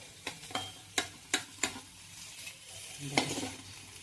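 Paneer pieces fry in a kadhai under a quiet sizzle, punctuated by a series of sharp clacks from stirring, several in quick succession and then one more after a pause.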